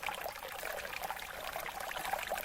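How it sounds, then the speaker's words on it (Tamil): Rainwater rushes steadily out through a freshly cut channel in a flooded spot, a continuous close pouring and trickling with no voices. "தண்ணீர் வேகமாக வெளியேறியது."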